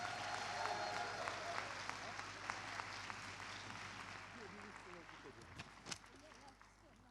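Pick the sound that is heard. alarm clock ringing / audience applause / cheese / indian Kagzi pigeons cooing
audience applause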